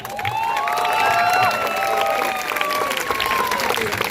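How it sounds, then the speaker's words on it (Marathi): Loud, sustained applause from a large crowd at a student political speech, with a few cheers and whistles rising above the clapping, then thinning toward the end. "सगळ्यांनी एकदा स्वतःसाठी एकदा टाळ्या वाजवा"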